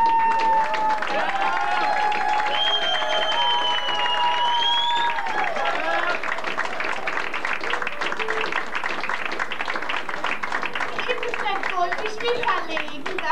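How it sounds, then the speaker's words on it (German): An audience at a live club session in Weinheim, Germany, gives sustained loud applause and cheers, with a voice and some whistling or vocalizing mixed in early on. "ich möchte das ganze Haus jetzt hier mal einen ganz dicke, fette Applaus holen"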